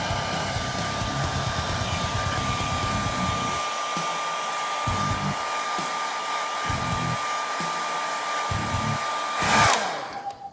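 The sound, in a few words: hair dryer blowing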